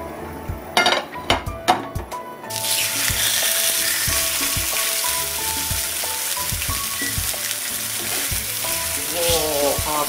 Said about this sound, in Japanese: かなりね、強火でいきますよ。